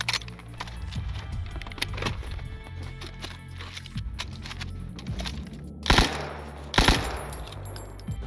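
Machine guns in the STALKER Gunslinger mod for Shadow of Chernobyl fire two loud, close bursts near the end, after quieter clicks and mechanical handling sounds.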